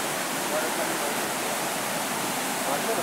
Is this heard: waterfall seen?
yes